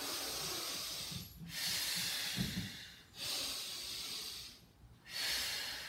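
Slow, deep breaths during an exercise breathing demonstration: long airy hissing inhales and exhales close to the microphone, separated by brief quiet pauses, with no talking.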